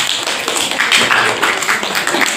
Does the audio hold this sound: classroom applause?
yes